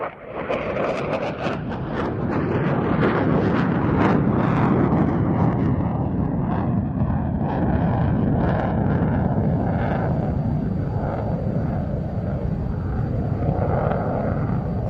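A Hornet jet performing an air display roars overhead, a loud sustained broadband thunder that swells and holds for the whole stretch, with the engine tone shifting as it passes.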